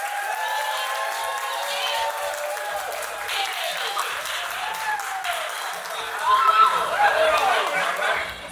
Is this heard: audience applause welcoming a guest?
yes